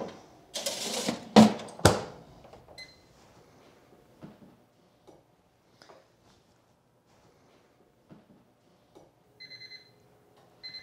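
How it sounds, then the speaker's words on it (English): A toaster oven timer runs as salmon cooks on a full dark-toast cycle. Loud clattering comes first, then sparse, faint ticks over near silence, and a short bright ding rings near the end. "once we hear the ding, we know our salmon is done."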